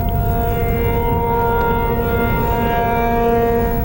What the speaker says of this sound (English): I noticed that the sirens do